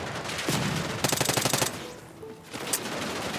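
Rapid automatic gunfire in a video game rattles out in one sustained burst of closely spaced shots, loud and near, preceded and followed by scattered single reports, with no talking.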